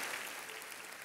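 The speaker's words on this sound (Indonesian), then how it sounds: "kalau mau tepuk tangannya yang paling meriah buat Yesus Tuhan kita" A church congregation claps together in worship, a dense, steady wash of applause from a large crowd with no pauses, fairly distant in the hall.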